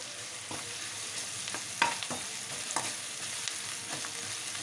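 Ginger garlic paste sizzles steadily in hot oil with onions and green chillies for a cauliflower curry, a continuous close frying hiss broken by a few soft stirring scrapes, with no talking.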